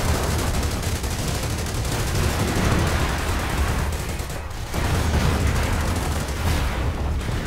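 Sustained machine-gun fire and scattered battlefield gunshots in a Company of Heroes base siege, a dense, continuous rattle with booming impacts blended into a loud wall of combat noise, no voices.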